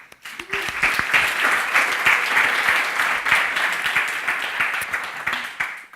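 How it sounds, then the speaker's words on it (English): A conference audience at a Magento event gives a burst of applause, dense clapping that swells quickly and stays steady for several seconds before tapering off. "Everyone give him a round of applause."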